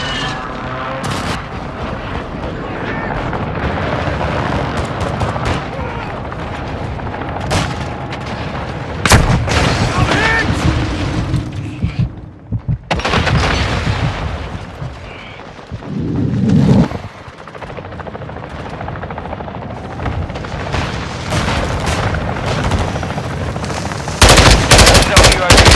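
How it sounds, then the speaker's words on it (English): An enemy airstrike in the shooter game Call of Duty: Modern Warfare II brings booming explosions and bursts of machine-gun and rifle fire, loud and chaotic, with heavy blasts near the middle and sharp shots toward the end. "hostile airstrike incoming"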